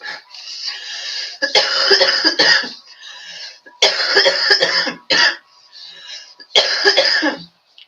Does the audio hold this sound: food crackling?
no